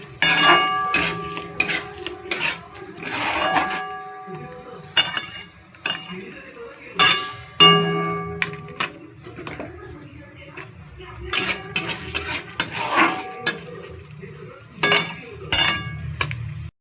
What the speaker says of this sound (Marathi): आता टोमॅटो पीठ छान असंच भाजून घ्यायचं. छान टोमॅटोलाही तेल सुटूस्तोपर्यंत.